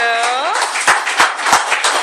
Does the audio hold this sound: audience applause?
yes